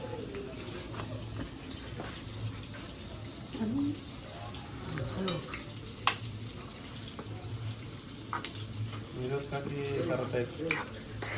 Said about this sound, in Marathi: हे बघा आलं लसूण मेल्ट झालेलं आहे, त्याच्यामध्ये कोलबी ऍड करायची